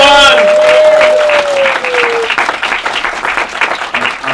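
An audience at a community event gives a full, loud round of applause that swells briefly and then stays dense and steady to the end, with a voice speaking over the start.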